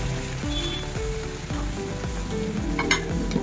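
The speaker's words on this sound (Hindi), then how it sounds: "और ऐड करने के बाद इसे भी हम अच्छे तरीके से भूनेंगे।" Ginger, garlic and green chili fry in a pan, sizzling steadily up close, with repeated scraping strokes of a stirring spoon.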